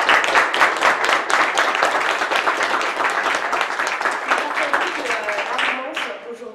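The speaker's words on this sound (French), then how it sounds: "Certaines sont présentes ce soir, je voudrais vous applaudir très fort." An audience at a Ladies Club book-prize evening applauds warmly, a dense, steady clapping that holds strong for several seconds before thinning out at the end.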